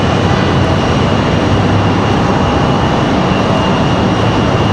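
Aeromexico airliner engines roar loud and steady at RDU airport, a continuous broadband drone with a faint high whine, close and alone without speech.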